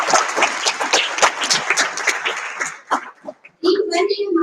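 An audience at a national education seminar applauds the keynote speakers and panelists with quick, dense clapping that fades after a few seconds. A voice then speaks into a microphone.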